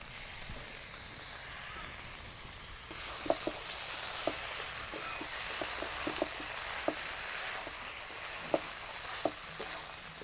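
Fried peanuts and prawns are added to papaya and spices in a pan, producing a soft, steady sizzle with scattered light clicks of stirring.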